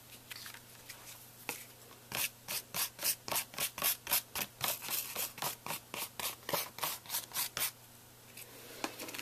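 Rapid rhythmic brushing strokes sweeping gold leaf over a stencil, close and crisp, a long run of even swishes starting after a couple of isolated strokes.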